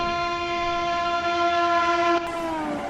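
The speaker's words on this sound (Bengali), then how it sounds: "ট্রেন ধীরে ধীরে ছাড়তেই কলকাতার কোলাহল মিলিয়ে যেতে লাগল" A train pulls slowly out of Kolkata on a trip toward Darjeeling, sounding one long, loud, steady horn that holds for nearly three seconds before its pitch sags and fades.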